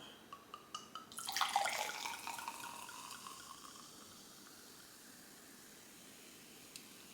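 Moscato sweet white wine splashes into a glass in one short, quiet pour early on, fading into a faint, hissy room background.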